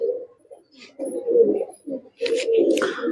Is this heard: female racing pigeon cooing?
yes